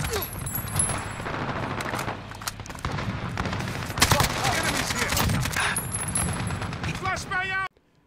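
An AK-74u firing in Modern Warfare: rapid bursts of automatic gunfire with sharp cracks and metallic shell clinks, dense and loud throughout before cutting off abruptly near the end.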